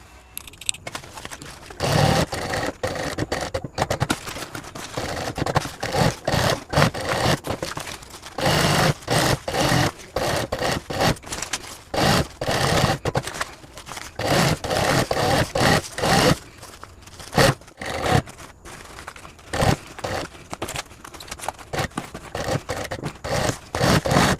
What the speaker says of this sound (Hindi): इसका दोनों को मिलाकर हम फिर इसे सिलाई करेंगे।